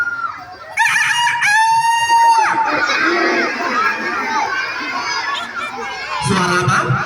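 A voice imitates a rooster crowing with a long rising-falling call, followed by a noisy crowd of children shouting and chattering.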